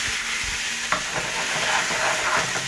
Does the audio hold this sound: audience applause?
no